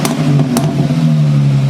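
A Dodge Intrepid police car with a 3.5-litre V6 revs briefly, a steady low engine drone held close by with a couple of sharp clicks near the start, and no talking.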